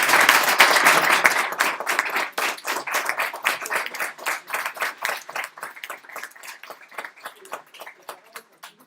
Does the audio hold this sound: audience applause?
yes